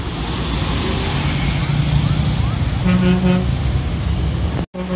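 Sinar Jaya intercity bus on the Semarang route idling and rumbling at a busy bus agent, with engine drone, a few short horn toots and traffic noise, cut off abruptly near the end.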